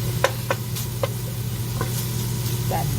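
Pork sausage sautés in a pan with a low, steady sizzle, broken by several light clicks and scrapes of stirring at irregular intervals.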